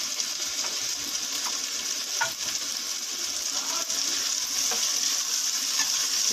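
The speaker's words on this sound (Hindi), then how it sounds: "ये सफ़ेद जीरा भी इसमें डाल देंगे।" White cumin seeds sizzling in hot oil, producing a dense, even, bright crackling hiss that runs unbroken throughout, with a few faint stirring clicks near the pan.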